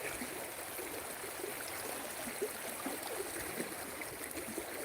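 Swift floodwater rushes past in a constant, fairly faint broadband roar with light gurgling, heard alone with no voices.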